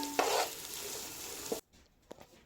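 Chopped green chillies frying in a pan as paneer biryani is made, a steady close sizzle with a stirring scrape, then the sound drops away suddenly and only faint knocks and clinks remain.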